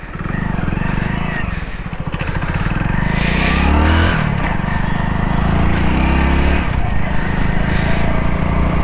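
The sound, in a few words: Hero Splendor BS6 motorcycle being ridden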